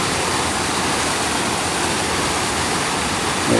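A 75-foot waterfall rushes below a viewpoint, its steady broadband roar loud and unbroken throughout, with no voices.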